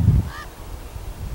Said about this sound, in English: two male ravens were soaring high on the thermals and came along